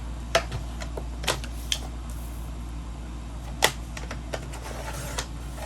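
Paper being cut to size for a Tim Holtz folio journal, heard as a few sharp, isolated snips or clicks spread over several seconds against a quiet background, close and fairly soft.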